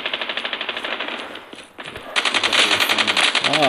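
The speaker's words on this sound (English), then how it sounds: "someone's shooting on me" Automatic gunfire in Call of Duty on Android, in gun game mode, with rapid rhythmic bursts that pause briefly and then return louder and steadier, close and continuous.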